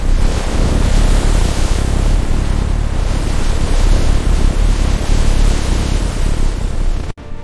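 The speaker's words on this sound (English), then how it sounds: "The waves are too high! We are perishing!" A stormy sea with high waves, a loud, continuous roar of surf and wind that fills the whole stretch and cuts off abruptly at the end.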